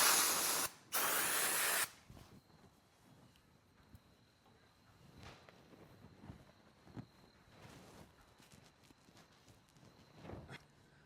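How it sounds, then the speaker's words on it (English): Aerosol brake cleaner sprays onto a rag in two loud, close hissing bursts, followed by quiet rubbing and faint clicks while cleaning a pinion seal mating surface on a Jeep axle. "So just spray a little brake clean on your rag"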